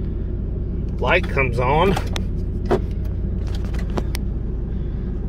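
A lifted 1998 Ford F-150 regular cab short bed 4x4 runs with a steady low engine rumble from inside the cab on a test drive, while someone talks briefly over it.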